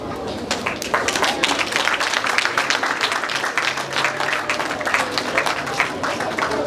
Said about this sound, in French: Que les initiateurs de ce festival soient frénétiquement applaudis.